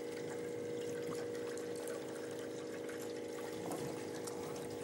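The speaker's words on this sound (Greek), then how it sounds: "από τη μια βάζουμε νερό και από την άλλη βγαίνει το νερό" Water pours steadily through a Camelot water filter, a continuous even rush and trickle that holds for several seconds, fairly quiet, with no talk.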